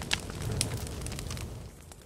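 A large fire burns in the survival game The Forest VR, a steady low crackling roar with a few sharp pops and snaps, close and continuous for about two seconds with no talk.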